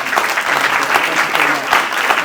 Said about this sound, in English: Round of applause for Celeste.